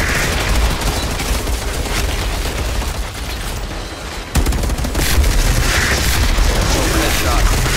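Heavy sustained gunfire and explosions in the Outriders video game, loud and relentless throughout, with a brief drop midway before the barrage resumes.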